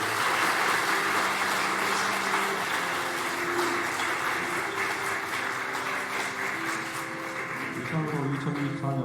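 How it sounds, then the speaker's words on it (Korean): A church congregation applauds a young scholarship recipient during a Sunday worship service, steady sustained clapping from a large crowd lasting throughout, with organ or keyboard tones underneath. "박수로 격려해 주시기 바랍니다"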